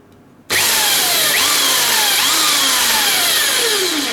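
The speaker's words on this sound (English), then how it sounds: "Now I'm just drilling just little starter holes." A power drill starts abruptly after a short silence and runs loudly and steadily, its pitch dipping and rising as it drills small starter holes while modifying a Fender Telecaster guitar.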